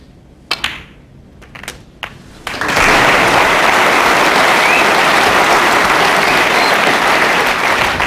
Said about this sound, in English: Round of applause from this crowd, knowing that that's frame over